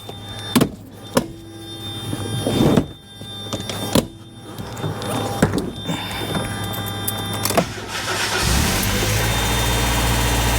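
An old car engine cranks through several short starter bursts and clicks, then catches at the end and settles into a steady, loud running idle.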